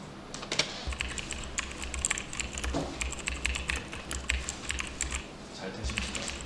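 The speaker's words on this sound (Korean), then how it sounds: "이 키보드 타이핑 음을 가져와서 여기에다가" Rapid, continuous keystrokes on a computer keyboard, close-up clicking in an uneven rhythm with brief pauses, heard alone without talk.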